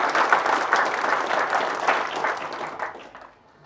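A crowd at a technical conference applauds in a dense, lively burst that carries on strongly, then thins out and fades toward the end.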